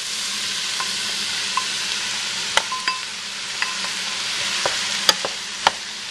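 Portobello mushrooms frying in oil for a harvest soup: a steady broadband sizzle throughout, with scattered sharp pops and clicks of spatula or spoon against the pan, fairly close.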